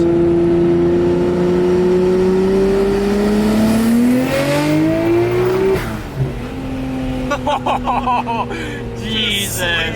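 A Nissan Skyline R34 GT-R engine revs hard as its turbo builds boost, the pitch climbing steadily and loudly for several seconds before dropping off and giving way to choppier engine and turbo noises.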